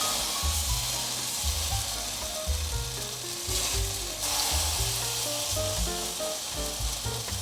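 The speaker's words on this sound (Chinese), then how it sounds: "让素鳕鱼在里面煎成焦黄色，让它定型。" Vegan cod pan-fries in a hot pan, giving a steady, close crackling sizzle with occasional soft scrapes, continuous throughout with no talking.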